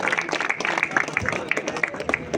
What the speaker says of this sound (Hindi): एक बार सब उसके लिए ताली बजाइए